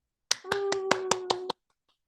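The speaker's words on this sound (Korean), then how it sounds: "박수 한번 칠까요?" Seven crisp hand claps in quick, even rhythm during a live broadcast, close and fairly loud, over a sustained tone, then silence.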